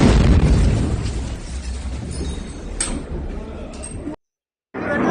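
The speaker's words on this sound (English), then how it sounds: "Massive explosion in that area." A massive explosion in recorded footage from Dimona roars as a loud, sustained broadband blast with a sharp crack partway through, then the sound cuts out abruptly to silence before returning.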